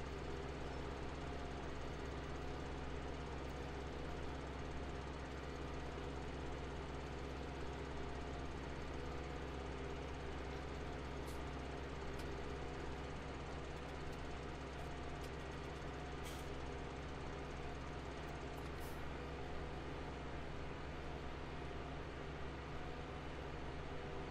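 A tractor engine runs steadily in the Farming Simulator 2017 game, a constant droning hum at even volume with no variation in rhythm.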